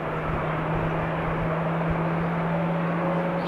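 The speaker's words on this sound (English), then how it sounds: "I can also see a KLM Dreamliner taxiing" A KLM Boeing Dreamliner taxis at Amsterdam Schiphol Airport, heard as a steady, even jet rumble with a faint constant hum and no breaks.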